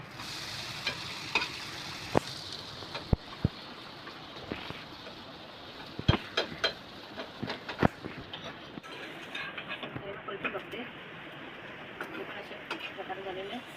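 Egg Bombay toast frying in a pan over a low gas flame: a soft continuous sizzle with stirring and occasional metallic clinks of a utensil, while someone talks over it.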